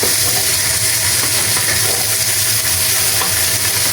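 Onions sauté loudly in a pan for a beer roast, giving a dense continuous sizzle with stirring and scraping close up and no voices.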